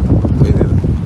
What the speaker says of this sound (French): Et puis, il y a trop de vent.